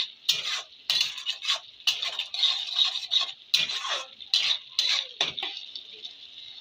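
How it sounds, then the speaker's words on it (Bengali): Beef liver curry being stirred in a pan of hot oil gives repeated close scraping and clattering strokes in an irregular rhythm, with short pauses between them. "তেলটা ছেড়ে এসেছে, এবার একবার নেড়ে দেবো।"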